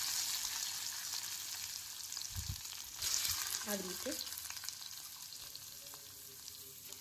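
Mustard seeds and spices sizzle in two spoons of oil over a low gas flame, a soft steady hiss with a couple of spoon taps, while a voice speaks briefly.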